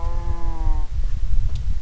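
A sheep in the SurvivalCraft video game gives one clear, drawn-out bleat up close, followed by low background noise.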